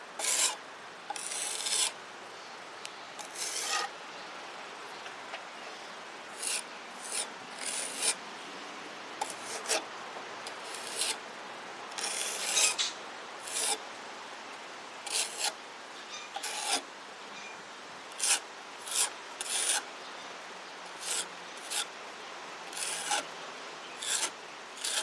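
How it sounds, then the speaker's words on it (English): A putty knife scrapes and spreads wood filler across a kitchen cabinet slide-out drawer, producing repeated short rasping strokes over a quiet background, close and moderately loud at an uneven rhythm. "And then just take a putty knife and kind of spread it out."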